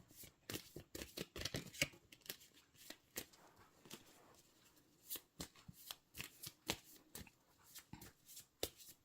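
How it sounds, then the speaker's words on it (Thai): Tarot cards being shuffled and cut by hand, close and soft, with quick riffling bursts and sharp slaps and taps in an uneven rhythm, no talking. "ขอเป็นตัวแทนสับไพ่ตัดไพ่ให้คนเกิดวันจันทร์ค่ะ"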